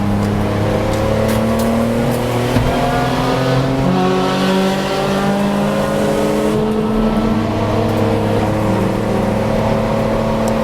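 Budget Suzuki race car lapping a track, its engine droning loud and close throughout with rising and falling harmonic sweeps as it revs through gears and corners, with no speech.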